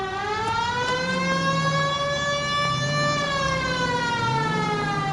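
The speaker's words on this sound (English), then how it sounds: "Turn on the siren and pull her over." Police car siren in the video game L.A. Noire wails steadily with rising and falling pitch sweeps, loud and close, continuing without pause and with no talk over it.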